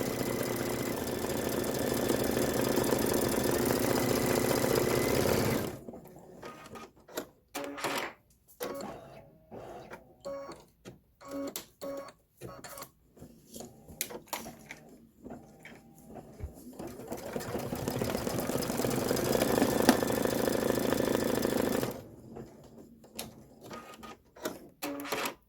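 A home sewing machine runs a tack-down stitch on a Halloween pumpkin quilt block for a bench pillow: a steady close hum for several seconds, then a stretch of short stop-start bursts, then another long continuous run.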